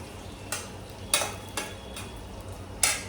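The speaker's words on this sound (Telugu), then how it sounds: "కలిపేటప్పుడు కొంచెం జాగ్రత్తగా కలపాలండి చేప ముక్కలు విడిపోకుండా" Fish pieces being gently stirred with onion, salt and chilli in a pan, giving a handful of separate soft scraping strokes over a quiet kitchen background.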